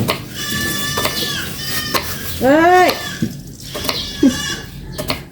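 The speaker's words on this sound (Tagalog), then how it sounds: "Ganyan po yung mga kambing." Goats bleat loudly and nearby on a Filipino household farm, a few wavering calls spaced across the moment, mixed with a person talking and background chatter.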